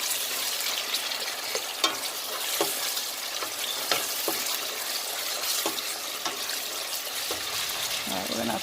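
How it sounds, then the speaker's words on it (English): Stewed bitterleaf with onion is stirred in a pot over steady frying sizzle, with soft scraping strokes and clinks recurring every second or so, close and moderately loud. "All right, we're gonna stir it."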